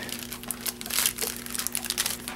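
A paper instruction pamphlet from the box of a Phoenix Arms HP22 pistol crinkles and rustles continuously, close up and crisp, with no talking.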